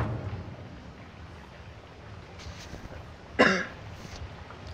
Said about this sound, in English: I do apologise about my cough,